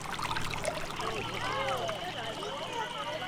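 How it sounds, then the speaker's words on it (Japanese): Spring snowmelt water trickles and gurgles softly with small bubbling runs, faint and close, while a voice speaks over it. "春、雪解け水の音とともに爽やかな風に包まれます。"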